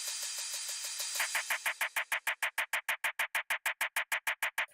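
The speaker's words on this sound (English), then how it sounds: "This is the same sample playing over and over." One drum hit, a hi-hat style sample, repeats identically in a fast, even machine-gun stream, each hit crisp and the same as the last, after a brief wash of hiss.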